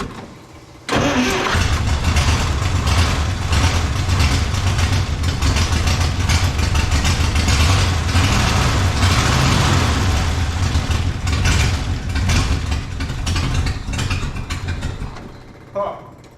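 A cold 1956 Plymouth Savoy with a 277 Poly V8 cranks and fires at once, then settles into a loud, steady, rumbling idle that runs close up and continuously with slight surges before fading near the end.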